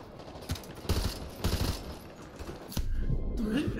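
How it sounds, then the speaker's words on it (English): Rapid bursts of gunfire in Call of Duty: Modern Warfare 2 Remastered, with several loud cracks and dense automatic fire, then a steady busy din of battle carrying on to the end. "Who's shooting me?"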